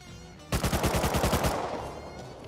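Sustained burst of automatic gunfire from M2 and AK rifles trading shots in the Rust console video game: a rapid run of about ten loud, evenly spaced cracks, then a fading tail with no talking.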